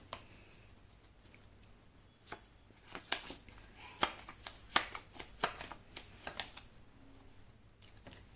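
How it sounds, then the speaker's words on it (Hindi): Tarot cards are shuffled close up in a quick series of crisp riffles and taps that grow louder and more rhythmic partway through, with no talking. "मैं कर लेती हूँ कार्ड की शफलिंग।"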